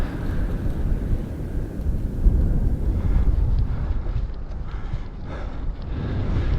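Wind roars steadily against the microphone while a cyclist climbs toward Towne Pass in Death Valley. The rushing buffet is loud and unbroken, with no voices.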